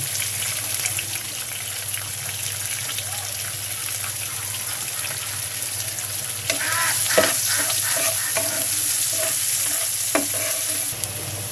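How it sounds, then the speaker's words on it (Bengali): Onions fry in oil left over from frying boal fish, a continuous close sizzle that thickens midway, with a run of stirring scrapes and clinks near the end, no talk. "মাছ ভাজি তেলের ভিতরে আমি পেঁয়াজ দিয়ে দিয়েছি"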